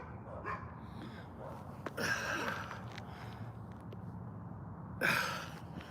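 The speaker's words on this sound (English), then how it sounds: "There's already a bunch of dogs here." Several dogs bark and yip at a park, two louder bursts standing out above a steady outdoor background with light breathing nearby.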